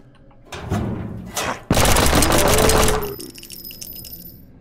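Rapid gunfire from a video game gun in a secret facility, the weapon firing as fast as the trigger is pressed. A dense, loud burst of shots runs for over a second, with a few scattered shots just before it and fading noise afterward.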